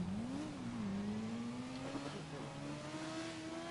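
A car driven in the video game GTA V, its engine humming steadily with pitch rising and falling through gear changes, close and continuous at modest volume.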